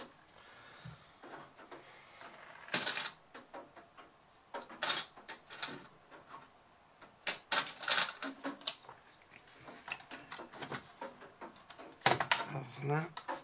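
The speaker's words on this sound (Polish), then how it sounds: "Dobra, trzeba jeszcze zdjąć klawiaturkę." Keyboard being removed from a Lenovo IdeaPad Z580 laptop, with intermittent plastic clicks, snaps and scraping bursts close by, separated by quiet pauses.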